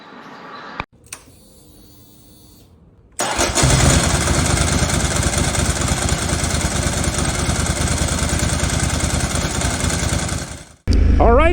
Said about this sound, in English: riding on a 748R for commute or just general city riding